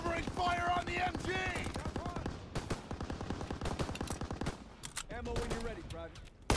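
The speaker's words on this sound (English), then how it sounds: "Covering fire on the MG!" Machine guns fire in sustained rapid bursts during a World War II battle scene in Call of Duty WW2, with loud rattling volleys and shouted voices over the gunfire.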